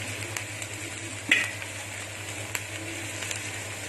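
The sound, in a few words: onions frying and stirring on high heat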